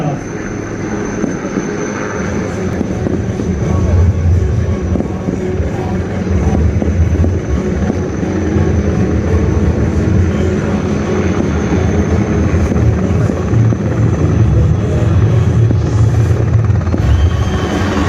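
Cheetah helicopter approaching during a military display at a combat aviators course passing-out parade, a steady loud rotor and engine drone building and holding throughout with broadband outdoor rumble.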